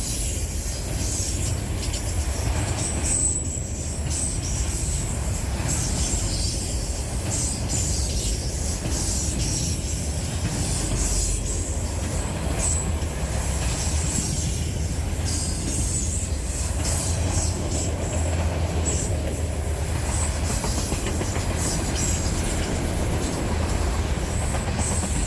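A CSX freight train rolls steadily past on the Norfolk Southern D&H line, a continuous broadband rumble of wheels and railcars with faint squeal, holding loud and even throughout.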